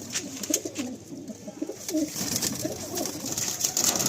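Chennai Regdar pigeons being handled in a loft, soft repeated cooing and throaty burbles close by, with faint rustling and background noise.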